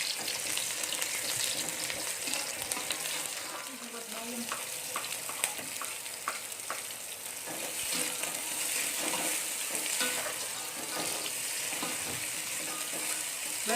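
Onions stir-fried in a pan for a spinach dish, a steady loud sizzle with frequent scraping stir strokes and clinks throughout, no talking.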